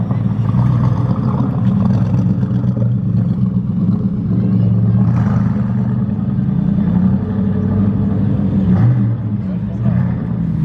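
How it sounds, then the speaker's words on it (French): Mercedes SLR engine gives a coarse, tractor-like rumble, a steady low drone at idle or crawling pace on a closed road, with someone talking throughout. "Le bruit de cette SLR, c'est un tracteur"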